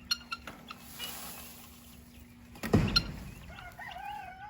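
Chickens and young chicks in a garden cluck softly at close range, and one bird gives a sudden loud squawk midway. High, thin chick peeps follow toward the end. No one speaks.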